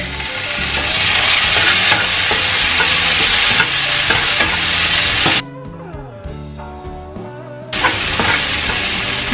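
Chili and tomato hitting a hot pan with browned ginger and lemongrass, a loud steady sizzle with stirring clatter, briefly dropping to a softer crackle before the full fry returns, with no talking.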